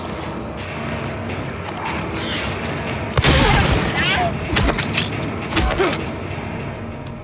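A few heavy shotgun blasts from Silent Hill 2 Remake, loud and close, the sharpest landing a little past the midpoint, with further bursts soon after over a constant game ambience.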